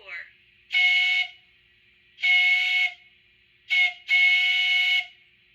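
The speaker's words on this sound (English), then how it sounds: "Trench whistle 4." Whistle choice four on an On30 trench locomotive model blows two long blasts, then a short toot running straight into a final long one, loud and clean with nothing else heard.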